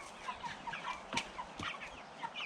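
Several roosters and hens cluck and call inside a chicken coop, with overlapping bird sounds throughout and a couple of sharper, louder calls standing out nearby.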